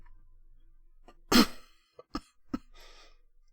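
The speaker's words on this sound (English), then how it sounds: "I'm trying not to cough." A single cough, close and fairly loud, from a person at a computer in a quiet room, followed by a couple of softer throat sounds and a breathy exhale.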